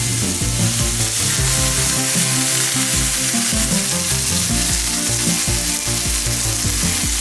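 Burger patty frying in a pan, a steady loud sizzle with crackling spatter throughout, no voices.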